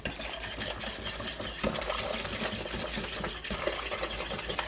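Cheesecake filling for stuffed apples is mixed in a bowl, giving a steady, fairly loud whirring churn with faint scraping that continues unbroken throughout, with no talking.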